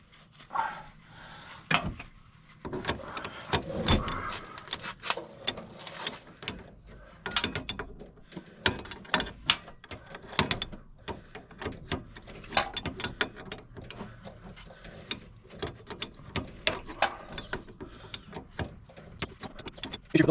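Ratchet wrench tightening the steering gear side line fitting on a 2001 Dodge Dakota during rack and pinion repair, a long run of close, sharp clicking bursts with pauses between strokes, no talking.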